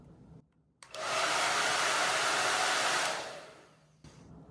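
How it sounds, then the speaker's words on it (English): Handheld hair dryer switched on near electronic sensors of an Arduino sensor kit, a loud steady blowing roar lasting about two seconds before winding down, with faint room noise around it. "I'm going to grab this hair dryer and warm up the sensors from a distance so I don't damage anything"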